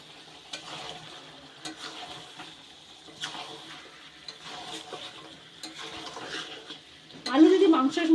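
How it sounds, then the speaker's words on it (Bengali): Chicken curry with chunks of fried potato is stirred in a pan, with soft scraping and a steady low sizzle that grows louder near the end. "এবার এই মাংস আলু সব দিয়ে খুব ভালোভাবে কষিয়ে অল্প জল দেবো।"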